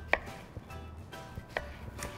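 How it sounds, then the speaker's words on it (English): A knife cutting a peeled sweet potato into 1-inch pieces on a board, giving a few sharp, spaced chops close by with quiet pauses between and no speech. "I'm gonna peel it. And now I'm gonna cut this into 1-inch pieces."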